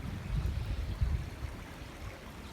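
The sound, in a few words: creek water flowing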